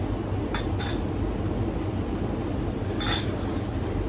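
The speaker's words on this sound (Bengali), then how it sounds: "রুপোর বাটি আর চামচ" A silver bowl and spoon clinking together, with three short, bright metallic taps, two close together early and one later, heard near and fairly faint over quiet room tone.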